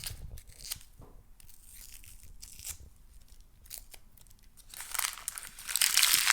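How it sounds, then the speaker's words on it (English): Dry onion skin is peeled away by hand, giving soft crinkling and tearing rustles that build to louder crackles near the end, with no talking. "we're just going to peel it"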